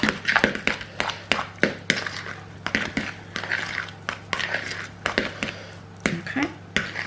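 A spoon scrapes and clinks against a bowl while hot, just-cooked cheese sauce is mixed into couscous, giving a string of irregular close taps and soft squishy stirring with no talking.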